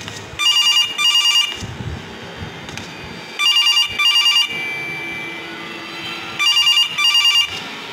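A telephone in the horror video game The Control Room rings in three paired bursts of bright electronic trilling, spaced by short gaps over a low eerie ambient drone, with no voices.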